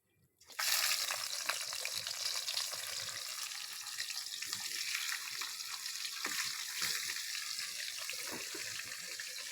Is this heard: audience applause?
no